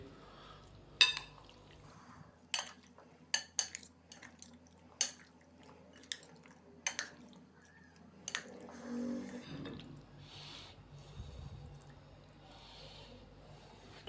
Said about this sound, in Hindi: अदरक और लहसुन के पेस्ट को शामिल करने के बाद हम इसको अच्छे से मिक्स कर देंगे